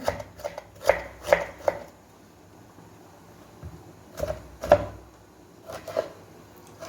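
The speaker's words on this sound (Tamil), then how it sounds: "இப்போது தக்காளி பொடியாக கட் பண்ணிக்கலாம்." A knife cuts tomatoes finely on a board in quick clusters of sharp close taps, short bursts separated by pauses, with no speech.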